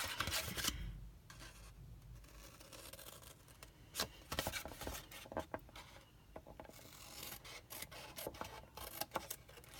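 Paper for a square ribbon-lid gift box is snipped at the corners with scissors, giving quiet, close, irregular cutting and rubbing sounds with short crisp snips scattered throughout.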